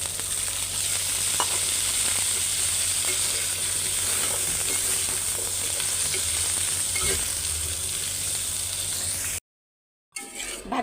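Sweet pumpkin frying with onions in a hot pan gives a loud, steady sizzle with stirring scrapes throughout, close up. It cuts to silence briefly near the end, then resumes.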